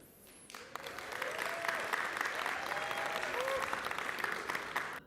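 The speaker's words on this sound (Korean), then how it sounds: "관중석에서 박수가 터져나오기도 했습니다" Crowd applause in an auditorium at the Honor Magic V2 foldable phone launch, swelling up after a brief pause and holding as a broad, moderately distant clatter, with faint tonal sounds drifting over it.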